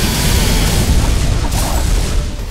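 Boss missiles bursting into explosions in the game The Dishwasher: Vampire Smile, a dense, continuous roar of loud booms and rumbling blasts filling the whole stretch with no pause.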